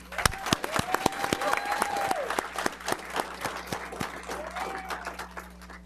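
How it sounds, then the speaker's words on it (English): A small audience at a city council meeting gives a round of applause, a scattering of sharp individual claps over a light murmur of voices and a faint steady hum in the room. "but a round of applause"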